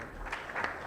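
Short, light applause from an audience at an AI and robotics conference, scattered claps rising toward the end at modest volume.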